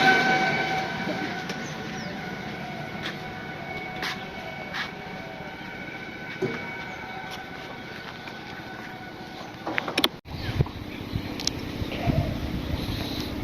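A train runs along a railway with a steady, close rumble and faint sustained tones, then a brief sharp clatter near the end before the rolling noise resumes.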